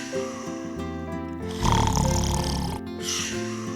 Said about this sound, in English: snoring can just be caused by very deep sleep